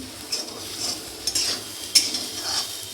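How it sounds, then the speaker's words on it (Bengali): Vegetables including capsicum and carrot stir-fried in a pan for chow mein, with a soft steady sizzle and a few scraping stirs of a utensil against the pan, close and unaccompanied by talk. "সবজিটা আমার ভাজা হয়ে গেছে এই যে দেখুন"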